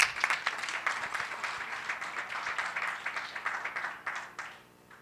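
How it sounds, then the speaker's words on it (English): A conference audience at a cannabis industry and policy summit claps for a speaker, a brisk, fairly close burst of applause that holds steady before tapering off at the end. "Another round of applause for Mr. Chris James."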